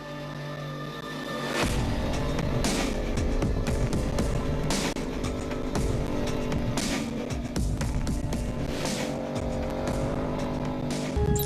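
Rally cars racing through desert dunes at the 2013 Dakar, with loud sustained engine roar and revving rising after a quiet start and continuing throughout.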